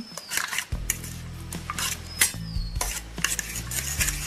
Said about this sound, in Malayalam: അതിനുശേഷം നമ്മൾ ബീറ്റർ കൊണ്ട് നന്നായിട്ട് പതപ്പിച്ചെടുക്കണം.